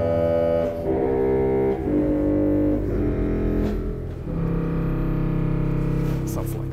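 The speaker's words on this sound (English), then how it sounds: "The Posaune 16-foot." Low, buzzy pedal reed of the Posaune 16-foot stop on the Hinsz organ in the Bovenkerk, Kampen, sounding loud and sustained as several bass notes change in succession, with no talking.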